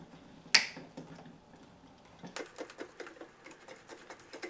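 Electrical wires being snipped while replacing an old light switch: one sharp, close snip, then a few faint clicks and light handling noises.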